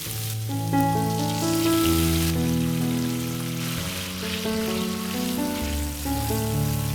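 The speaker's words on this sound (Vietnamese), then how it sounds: "Đảo thêm khoảng vài giây nữa thì mình sẽ đổ luôn phần nước sốt vào nha." Sauce hits a hot pan of sizzling lemongrass and chili, a steady crackling sizzle under a loud continuous musical backing.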